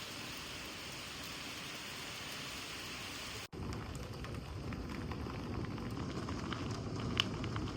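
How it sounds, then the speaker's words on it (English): Heavy rain pours steadily with a dense hiss of drops, briefly cut off and resuming with a deeper, rumbling body that may carry distant thunder, with no voices. "It has been pouring rain all day."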